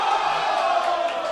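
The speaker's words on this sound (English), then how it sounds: "Yes, that cheer is for us." Crowd cheering at a live broadcast watch party in a bar, a brief swelling roar of many voices, fairly loud and distant-sounding.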